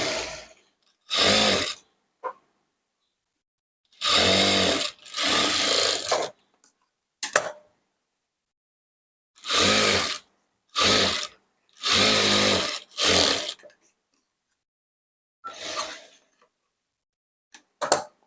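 Short bursts of close machine stitching on a princess cut blouse, long basting stitches run in about a dozen separate spurts with dead silence between each run.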